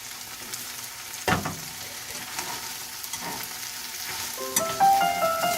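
Spicy chicken feet frying in a home kitchen pan give a steady close sizzle, broken by a few sharp stirring clatters and scrapes. No one speaks.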